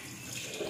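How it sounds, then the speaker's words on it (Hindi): Water from freshly washed ash gourd pieces drains off steadily as a soft, continuous trickle and splash, fairly close and alone, swelling slightly near the end. "पानी निकालने का नया तरीका"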